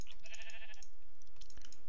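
Sheep bleating in the Minecraft video game, a wavering game-audio bleat in the first half, followed by softer clicks and faint background sounds, with no speech.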